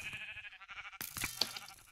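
A sheep in the Minecraft Mineplex game bleats in a quick wavering call, followed by a burst of bright game sound effects, moderately loud with no talking over it.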